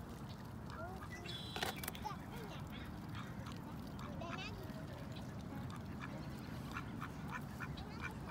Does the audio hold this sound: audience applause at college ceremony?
no